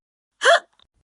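A single short hiccup from a woman, sharp and close, standing alone in near silence with a tiny faint click after it.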